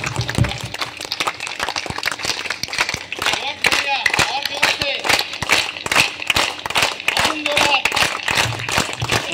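Audience at an annual health-group gathering clapping in a steady, rhythmic unison beat, loud and close, repeated sharp claps filling the whole stretch without pause.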